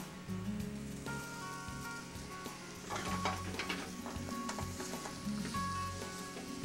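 Bacon, shiitake mushrooms and asparagus fry in a pan with a steady, close sizzle and spatter, broken by brief stirring clatters throughout, no voices present.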